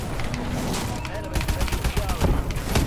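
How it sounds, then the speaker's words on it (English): Gunfire and grenade blasts in Call of Duty: Advanced Warfare multiplayer crackle in a dense, rapid burst of close shots and thuds that runs throughout, with a player's voice speaking over the game noise. "oh that was a lot of grenades"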